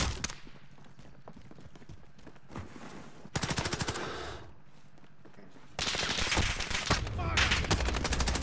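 Gunfire rattles in Call of Duty Warzone, with bursts of rapid automatic shots at moderate volume, the heaviest volleys toward the end, mixed with game noise.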